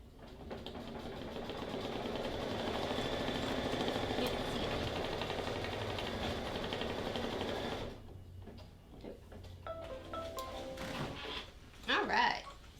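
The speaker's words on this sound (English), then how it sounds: "We're going to go ahead and hit go for that. And it's going to stitch her on out." Brother embroidery machine stitching green thread, a steady fast mechanical whirring hum for several seconds that then stops, followed by clicks and handling sounds while a person talks.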